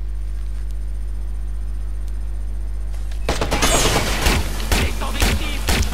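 Rapid bursts of gunfire from the video game Watch Dogs erupt after a quiet stretch of steady hum and continue loud and dense to the end.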